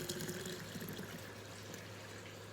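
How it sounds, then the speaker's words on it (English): A quart of hot water poured into a container of homemade laundry soap, a faint, continuous trickling fill heard alone at low level. "I heated up another, what is this, quart of water, and I'm gonna pour it in here."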